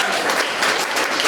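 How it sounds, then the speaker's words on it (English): Brief burst of audience clapping at a music community meetup, many hands applauding steadily at close range. "Can we get a clap for that?"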